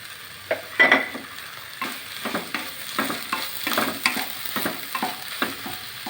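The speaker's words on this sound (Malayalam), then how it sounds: "ഈ സോയന് നമുക്ക് സൺഫ്ലവർ ഓയിൽ വെച്ച് ഒഴിച്ചൊന്ന് വറുത്തെടുക്കാം" Soya chunks fry in sunflower oil with a bright, continuous sizzle, punctuated by repeated stirring scrapes in an uneven rhythm, close up and with no voices.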